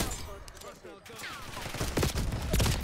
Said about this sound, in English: this pistol shoots so slow